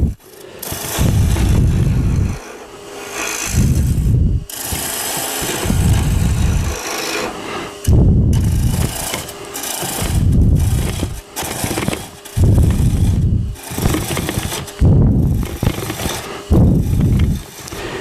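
A Hunter Hercules scraper tool cuts a spinning workpiece on a wood lathe, producing loud, close rasping bursts of a few seconds each, separated by short gaps, with a low motor hum underneath.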